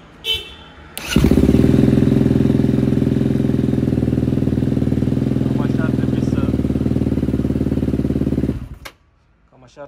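A motorcycle engine with a Keihin FCR carburetor starts cold and runs with a loud, steady throbbing idle for about seven seconds, then cuts off abruptly.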